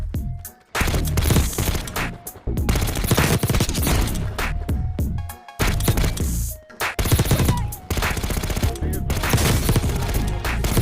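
LMG machine gun in the mobile shooter game Warzone Mobile, long loud bursts of rapid automatic fire with brief pauses between strings, harsh and close.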